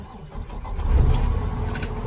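A 2013 Tiger Cranes 1061 crane truck's engine cranks and catches, settling into a low rumbling idle close by.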